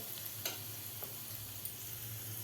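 Tadka tempering with asafoetida and curry leaves, a faint continuous sizzle and hiss from hot oil with a couple of small ticks, quiet and close with no voices.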